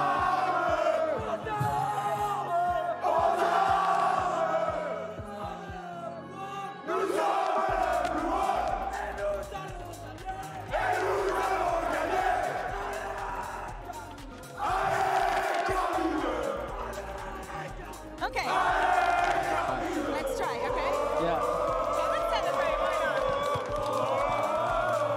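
A large esports arena crowd at the Valorant Masters Madrid event roars, cheers and chants in repeated swells, loud and sustained, with a voice talking at times over the noise.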